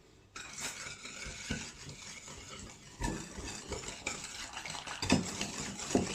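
Cream being beaten by hand for a Franc-Comtois festive cake: steady clattering strokes of a utensil against a bowl, close and fairly loud, with a few sharper knocks and no talking.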